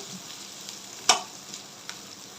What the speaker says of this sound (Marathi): छान हाय फ्लेम ठेवायची मिडियम फ्लेम नाही ठेवायची अजिबात आणि एक ते दोन मिनटं फक्त व्हेजिटेबल अशा सॉफे करून घ्यायचे